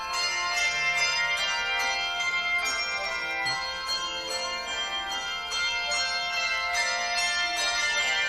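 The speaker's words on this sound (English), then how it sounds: "First time I've ever rung bells before." A handbell choir rings a steady run of bright, overlapping metallic tones that sustain and layer continuously at an even, moderate level, with no talk.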